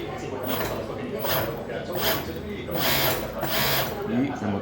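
The motor of a Siruba C007KD sewing machine runs hot after half an hour of use, whirring steadily in loud, swelling pulses with a faint squeal near the end, while a person talks over it.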